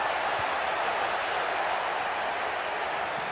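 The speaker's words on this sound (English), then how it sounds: "the crowd is certainly trying to motivate the players to get the equaliser" Stadium crowd in a football video game roars steadily throughout, a dense, even wall of cheering with no clear peaks and no talk over it.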